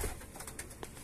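Caged pigeons give a brief, faint coo amid low background noise, close by and with no voices.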